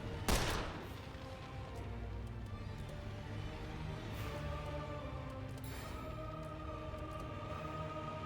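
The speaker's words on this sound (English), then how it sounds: "I do wish shots landing had a little bit more impact." Gunfire from the turn-based video game The Lamplighters League: a sharp loud shot near the start, then a dense rumbling burst of impacts and crackle continuing under an ambient game score.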